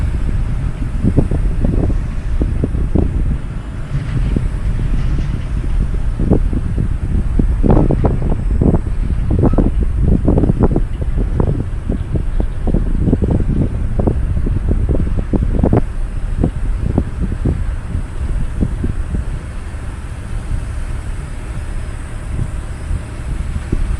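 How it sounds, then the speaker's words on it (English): Wind roaring past a moving golf cart near Crystal River's Suncoast Parkway: a loud, steady buffeting rumble with gusty thumps throughout, and no one speaking. "Glad the wind's behind us on this one."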